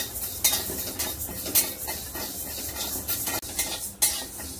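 A spoon stirs plain rice dry-roasting in a pan over low heat while making sambar masala, giving repeated scraping and rustling sweeps with faint clinks of metal on the pan, close and steady, with no voices.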